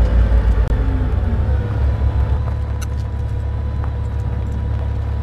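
A vehicle engine in the Far Cry game drones low and steady, a loud continuous rumble that holds throughout with a slight shift in pitch early on, with no voices.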